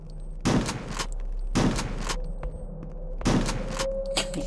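Three loud, sharp shotgun blasts aimed at rats in the retro first-person shooter HROT, spaced about a second and a half apart, with faint game ambience between shots.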